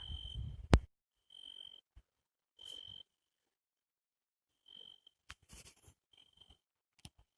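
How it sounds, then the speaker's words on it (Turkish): Crickets chirp in short, high-pitched bursts with gaps between them, quiet and outdoors at night at a forest campsite, with a few soft clicks and taps. "Çırçır böcekleri ötüyor."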